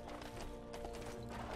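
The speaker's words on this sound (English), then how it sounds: "But anyway, we're on a horse." Horse hooves clip-clopping in the LEGO Worlds video game, a brief, quiet patter of footfalls with game ambience underneath.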